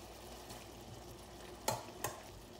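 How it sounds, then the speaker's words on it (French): A spoon stirs mushroom and sausage risotto in a pan, scraping the sides, with a soft steady simmer and two sharp scraping knocks near the end. "On mélange bien, on racle bien les bords."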